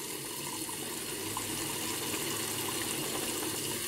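Hot water running into a bowl, a steady, faint, rushing pour lasting the whole short stretch with no talk.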